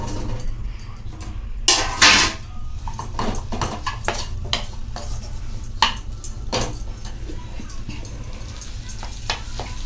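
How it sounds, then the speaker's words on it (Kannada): Cut paneer and capsicum fry in a kadai, giving a steady hiss and sizzle with scattered metal clinks and scrapes from stirring, louder bursts around the second and sixth seconds. "ಕಟ್ ಮಾಡಿದ ಪನ್ನೀರ್ ಮತ್ತು ಕ್ಯಾಪ್ಸಿಕಮ್ನ ಫ್ರೈ ಮಾಡ್ಕೊಳ್ಳೋಣ."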